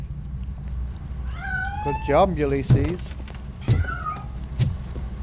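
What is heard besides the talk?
cat meowing, from the video game Robocop Rogue City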